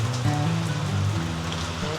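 Monsoon rain falls steadily in the Dooars near the Murti river, a dense even patter on surfaces heard nearby, with a low droning hum beneath it.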